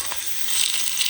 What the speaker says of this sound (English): we have the Italian sausage cooking here